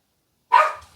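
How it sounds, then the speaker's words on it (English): A single dog gives one sharp bark at moderate distance after half a second of silence, then a faint low thump follows. "now I hear the dogs barking"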